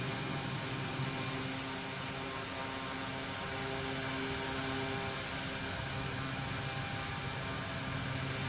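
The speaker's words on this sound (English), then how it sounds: "Oh, there is the Vision Jet." A Cirrus Vision Jet passes nearby in Microsoft Flight Simulator, a steady broadband engine roar mixed with airflow noise that holds evenly throughout without pauses or talk.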